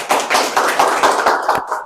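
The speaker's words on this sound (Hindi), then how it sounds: "इनके लिए तालियां हो जाए" Audience applause at an SMZ Institute mobile phone repair class in Lahore, a room of hands clapping in a steady, rhythmic beat at close range for about two seconds.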